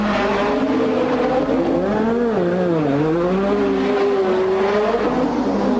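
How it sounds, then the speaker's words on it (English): A 1986 McLaren Formula 1 car races through the Monaco Grand Prix with a loud, sustained engine note that rises and falls through gear changes and corners. The car is close and the sound is continuous. "Prost's McLaren hummed calmly on."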